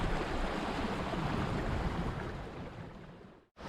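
Calm sea washes steadily around a Mini-Transat solo sailboat running under spinnaker in a light breeze, a continuous hiss of water and wind that fades slightly before a sudden brief dropout near the end; no voices.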